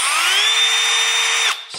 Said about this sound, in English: if you turn it all the way up to max drill bit, just goes straight in